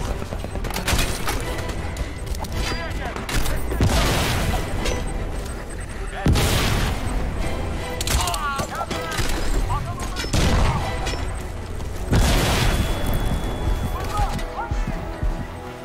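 Gunfire in Crysis 2 Remastered, repeated loud bursts and booming blasts recurring every few seconds over a dense combat backdrop, with someone talking in between.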